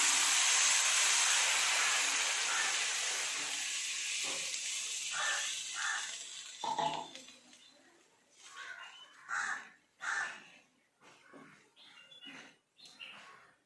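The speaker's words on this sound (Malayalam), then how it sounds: "ഇതൊന്ന് തിളച്ച് വരുന്നവരെ നമുക്കൊന്ന് വെയിറ്റ് ചെയ്യാം." Two cups of water heating in a pot to boil for instant noodles, giving a strong steady hiss that gradually fades, followed by scattered short knocks and clatter.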